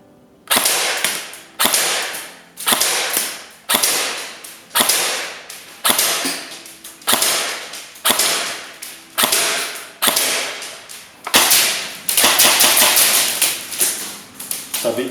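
LCT LC-3 G3 airsoft rifle firing 0.2 gram BBs in full auto, about a dozen rapid rattling bursts separated by short pauses, loud and close, with the last burst running longer.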